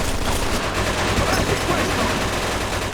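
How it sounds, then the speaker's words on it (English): Dense, loud machine gun fire from a firefight in the Mafia video game, a continuous rattling burst that fills the whole stretch without a break. "Looks like we found the machine gun!"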